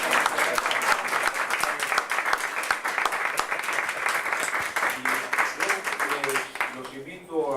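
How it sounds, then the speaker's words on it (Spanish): An audience at a Buenos Aires theatre show applauds warmly, a steady wash of many hands clapping that carries on without a break and thins out near the end, with a voice talking over it. "damos un aplauso, Carlos."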